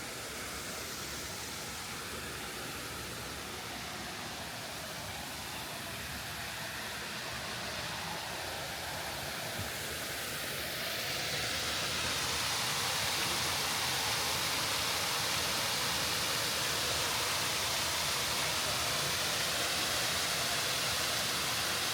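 Steady, broadband rushing of a waterfall on the Rock Bridge Trail in Red River Gorge that swells louder about halfway through and then holds constant, with no voices.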